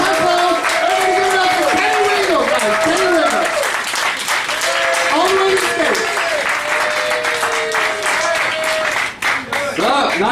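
Comedy club crowd at Cafe Diem in Richmond, Virginia clapping loudly and continuously, with cheering and whooping voices riding over the dense applause throughout.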